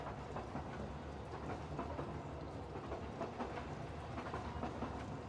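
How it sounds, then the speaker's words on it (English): A steady, dense rumble of a passing train with rhythmic clattering wheels fills the whole stretch at moderate level, continuous and unbroken with no voices. "Oh, that's a train."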